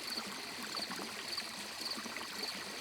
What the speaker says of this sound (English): The water was still falling, in a steady stream.